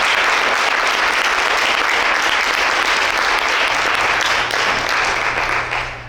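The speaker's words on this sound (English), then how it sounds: "We would now like to give a round of applause for Make Music NOLA" A crowd applauds steadily at the Make Music NOLA awards ceremony in New Orleans, a dense, loud wash of many hands clapping that holds for about six seconds and tapers slightly at the end.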